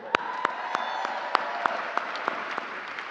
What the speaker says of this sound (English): I'd like one more round of applause for Cheche Alara and the Grammy Premier All-